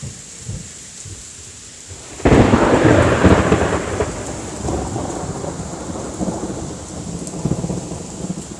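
Thunder during a thunderstorm with rain: a sudden loud, close crack breaks into a long rolling rumble that slowly fades. Steady rain patters underneath the whole time, and no one speaks.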